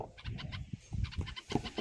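Red-vented bulbul giving short, muffled calls with food held in its beak at a nest box, a rapid series of soft chirps close by.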